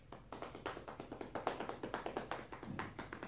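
Hands tapping rhythmically along the belt line during a qi gong exercise, a close, steady series of about twenty soft, even pats with no talking.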